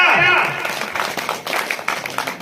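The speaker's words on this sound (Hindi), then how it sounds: "वाह वाह तालियां" Audience applause at a Hindi poetry recital, a burst of clapping from the crowd that starts just as a voice fades out and then thins into scattered claps.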